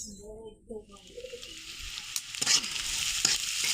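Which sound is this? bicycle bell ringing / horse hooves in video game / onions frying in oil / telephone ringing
onions frying in oil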